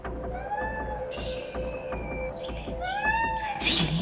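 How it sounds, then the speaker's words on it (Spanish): A cat meows repeatedly in a home, drawn-out rising and falling cries close by over low background noise, followed by a brief sharper sound at the end. "Ay, el gato se puso loco."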